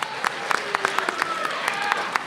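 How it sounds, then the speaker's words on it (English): An audience at a bank's student-funding talk gives a round of applause, a burst of scattered claps from a modest crowd filling the room. "Give him a round of applause."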